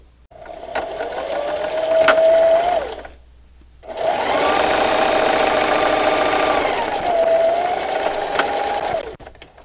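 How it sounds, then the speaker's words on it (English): Sewing machine backstitching a seam with a quarter-inch seam allowance on a Halloween treat bag, two loud whirring bursts of rapid stitching separated by a short pause, close and alone. "I'm going to put my needle right where the seam is and backstitch"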